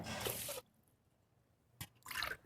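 Water is poured over washed seeraga samba rice to soak it, with two short splashing bursts separated by a quiet pause, close and fairly soft.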